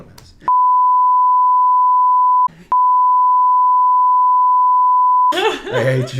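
A steady pure-tone censor bleep cuts over podcast banter in two long stretches, the first about two seconds and the second near three, split by a brief gap with a snatch of voice; lively talk resumes right after.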